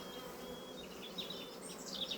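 Honeybees in a full hive crowded with bees, a steady low buzz with faint, brief higher whines as individual bees pass close, continuous throughout without talk.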